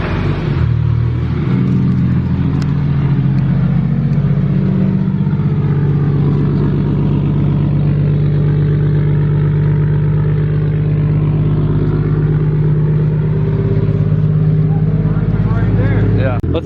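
A Toyota JZX100 with a G25 engine and titanium exhaust at first start: the engine idles with a steady, loud drone and swells slightly as it is revved. People talk over it throughout.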